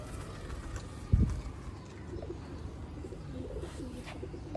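Pigeons kept for sale cooing softly in the background with faint chirps, and one brief louder thump near the start, over a low hum.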